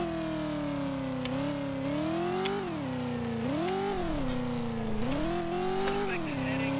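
A car engine in a survival video game, a steady loud drone whose pitch rises and falls as the vehicle revs and shifts while driving, continuous throughout.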